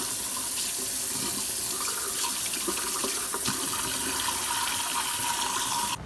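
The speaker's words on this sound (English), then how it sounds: "You want to wash your hands for about 15 to 20 seconds" Steady running tap water splashing into a sink, continuous and close, with faint clinks of hands moving under the stream.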